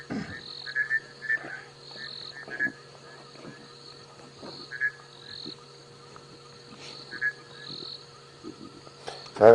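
Bushveld rain frogs call in short, repeated chirping croaks spaced across a quiet night, with faint insect trills and a steady low hum beneath.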